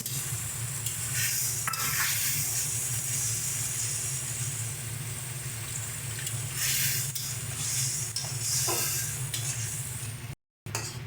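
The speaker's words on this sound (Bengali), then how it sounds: "এবার এর মধ্যে আমরা খুব সামান্য পরিমাণে জল দিয়ে দিচ্ছি" Loud, steady sizzle of pomfret fish curry in a hot pan as a small splash of water is added, with a continuous hiss and occasional stirring scrapes throughout.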